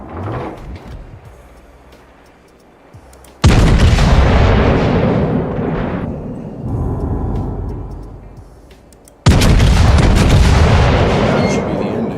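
Warship guns firing in the World of Warships video game, two huge booming salvos that each cut in abruptly and then roll on at length, with a quieter rumbling stretch between them.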